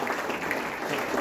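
Brief, even applause at a school event welcoming helpers and parents: a short, dense wash of many hands clapping at once.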